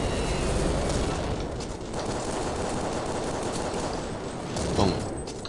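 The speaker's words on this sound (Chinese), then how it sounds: "开始投掷手雷" In Counter-Strike Online, a hand grenade goes off amid continuous loud gunfire, with a heavier burst rising near the end of the dense in-game barrage.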